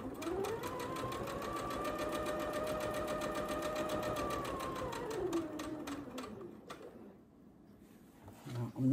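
A fast-running sewing machine stitching a charm pack quilt, a steady close whirring hum of rapid needle strokes that slows and stops near the end.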